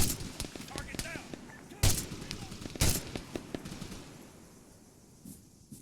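Machine gun fire in the Arma 3 video game battlefield, with two loud bursts standing out among scattered distant shots and radio-style voices talking over the fight.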